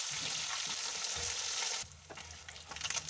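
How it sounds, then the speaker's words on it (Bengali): Rohu fish frying in a pan of hot oil, a loud steady sizzle that drops suddenly, then quieter crackling with stirring scrapes close by. "মাছ খুব ভালো করে ভাজা হয়ে গেছে"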